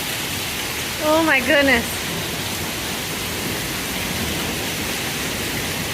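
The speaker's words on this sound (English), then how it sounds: "It's hailing. Look at all this water that's flooding." Heavy hail and rain pour steadily off a roof in a hailstorm, a constant broadband wash throughout, with a brief exclaiming voice early on.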